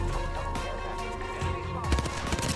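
Hemlock rifle gunshots in Apex Legends sound as rapid cracks in a dense, continuous game mix over music, with a louder burst toward the end.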